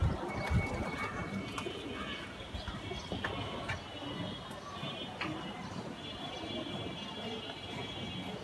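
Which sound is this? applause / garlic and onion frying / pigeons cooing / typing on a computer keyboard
pigeons cooing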